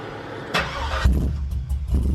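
A gold truck's engine cranks and catches after a fuel pump replacement, a short burst of starter noise followed by a loud, close idle rumble in an enclosed space.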